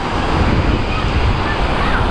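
Ocean waves at Batu Bolong Beach in Bali make a steady, close broadband wash with wind buffeting the microphone throughout.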